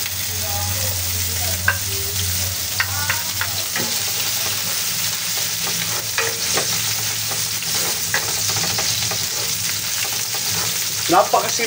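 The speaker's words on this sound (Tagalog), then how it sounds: "Isa-gisa yung ating pong sibuyas." Onions sautéing in a hot pan for a Filipino tofu dish, steady sizzling with scattered clinks and scrapes of stirring, close and continuous.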